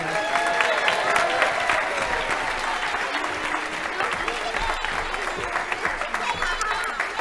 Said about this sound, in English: want another round of applause for our first graders.